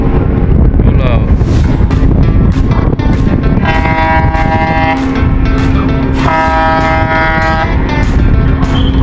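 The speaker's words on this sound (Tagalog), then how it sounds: "Malakas ang hangin mga kamamay." Strong wind buffets the microphone aboard a passenger ship pulling out of port on the way to Romblon, a loud constant roar with engine hum beneath and faint tonal horn-like notes rising twice.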